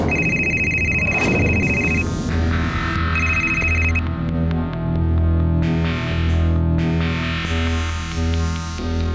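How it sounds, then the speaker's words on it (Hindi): An electronic phone ringtone repeats a bright chiming melody in loud, continuous bursts with a slightly distorted, echoing tone. "तभी मुझे निधि का फोन आया।"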